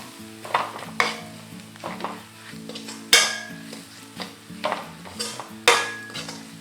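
Masala spices with turmeric powder frying in a pan, stirred with a spoon in repeated scraping strokes and sharp metallic knocks against the pan over a steady sizzle, close and fairly loud, with no talking.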